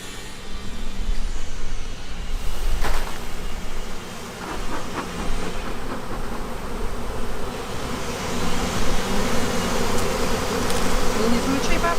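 A honeybee swarm buzzes loudly and continuously while the bees are shaken down into a hive, a dense droning hum with a few bumps and knocks from handling and brief voices underneath.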